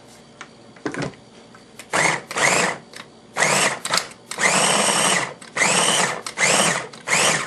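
A food processor chops corn together with garlic for beef and cheese enchiladas, running in several loud, whirring bursts of about one to two seconds each, separated by short pauses.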